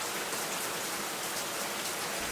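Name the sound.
rain starting to fall outside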